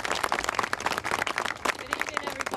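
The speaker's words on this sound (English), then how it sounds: "Give her a nice round of applause." An audience applauds speaker Kate Wall at a cemetery reenactment event, a steady round of clapping from a crowd that stays close and fairly loud throughout, with scattered voices mixed in.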